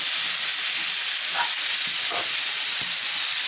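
Boiled flat beans (avarakkai) tossed into a hot pan and fried for a stir-fry; an even, hissing sizzle fills the whole stretch, with a few faint stirring scrapes and no voices.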